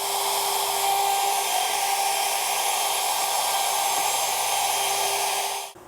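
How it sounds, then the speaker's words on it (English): A handheld router with a shallow depth-of-cut bit cuts the rear cavity of a guitar body, giving a loud, steady high-pitched whine that runs unbroken for several seconds before spinning down at the end. "grab a shallow depth of cut router bit, and route this as deep as we want our back cavity cover to be"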